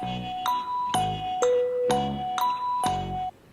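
A run of bright bell dings, six struck chimes at an even pace with slightly varying pitch, each ringing on until the next strike, clear and alone.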